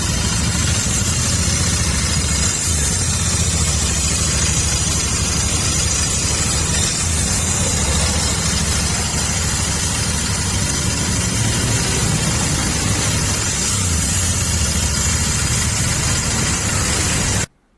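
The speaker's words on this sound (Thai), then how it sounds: "ฟังเสียงเครื่องยนต์ครับ" A 2019 Royal Enfield Continental GT650 motorcycle, original engine, idles steadily and close with a constant loud mechanical rumble and hiss, no talk, ending abruptly.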